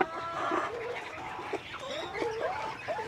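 Pullets cluck and call close by while they are being fed on a small farm. The short, overlapping, fairly quiet clucks continue throughout, with a faint voice in the background.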